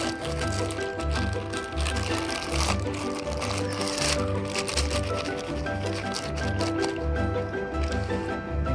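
Wet household kitchen waste is tipped into a home biogas reactor. Soft, repeated squelching and dripping go on steadily beneath a constant low background hum.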